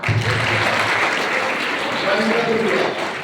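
An audience in a small remote town in Western Rajasthan bursts into dense, continuous applause, a loud, even wash of clapping that holds steady from start to finish.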